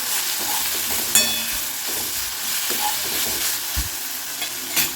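Mint and coriander leaves sizzling in hot oil in a pan as they are stirred in, a steady crackling fry broken by sharp scrapes and clinks of the spoon, close and loud.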